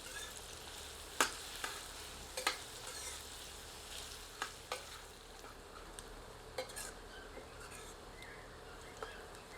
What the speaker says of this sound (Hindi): इसे मध्यम आंच पर तब तक भूनते हैं जब तक कि प्याज सुनहरे रंग की नहीं हो जाती